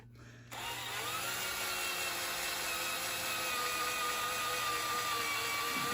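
A steady high-pitched power drill whirs continuously after a brief start, loud and close, drilling into aluminium on a Triumph 955i motorcycle gear selector, with a constant motor drone throughout.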